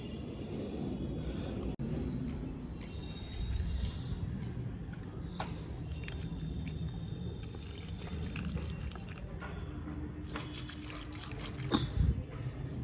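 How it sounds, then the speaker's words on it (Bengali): Water poured onto a bitter gourd plant in a home garden, a soft continuous trickle and splash into soil, fairly faint and close, with brief brighter spatters toward the end. "এবার একটু জল দিয়ে দেবো গাছে।"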